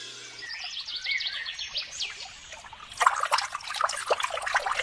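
Water trickles and splashes as an old woman fills a vessel in a cartoon, a soft pouring stream at first, then brighter, louder splashing from the third second on, with faint bird chirps around and no talking.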